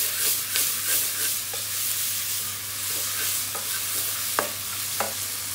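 One medium onion frying in a pan for chicken methi curry, a steady close sizzle broken by several sharp clinks and scrapes of stirring, with no talk.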